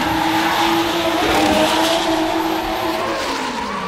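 At Sochi, a drift car on a qualifying run holds a loud, continuous engine scream layered with long tire squeal as it slides, staying close and steady for the whole clip.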